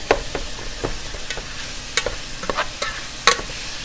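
Ground meat browning in a pan for taco soup, jabbed and stirred with a utensil: a steady low sizzle broken by repeated sharp scrapes and clicks at uneven intervals, close and fairly loud, with no talking.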